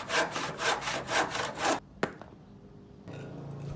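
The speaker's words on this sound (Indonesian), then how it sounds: "selanjutnya aku bawa ke meja potong untuk dipotong menggunakan gergaji" A hand saw rasps through wood in about six steady back-and-forth strokes, then stops with a sharp knock and a quiet room after.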